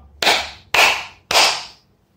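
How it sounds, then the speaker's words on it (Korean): Three sharp, loud claps ring out in unison from a group of children at a church school service, evenly spaced about half a second apart, each with a short reverberant tail in the room. "다시 한번 박수 3번을 쳐보겠습니다. 박수 3번 시작!"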